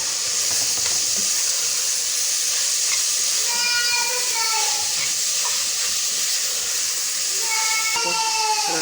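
Coriander sizzling briefly in hot oil in a pan, a steady close hiss running throughout with no pauses, bright crackle over the top and faint whistly tones drifting in and out.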